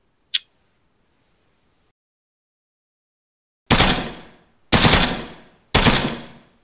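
Gunfire in the video game ARMA 3 during a town battle in Oreokastro: after a tiny click and a long silence, three loud, evenly spaced gunshot blasts ring out, each followed by a decaying echo.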